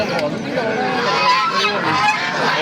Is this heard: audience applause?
no